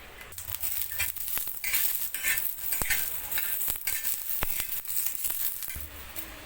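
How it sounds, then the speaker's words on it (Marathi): Green chillies and garlic roast on a hot tawa over a gas flame, a soft sizzle broken by sharp scraping and clinking taps of a spatula as they are stirred. "मिरची आणि लसूण आपण भाजून घेणार आहोत।"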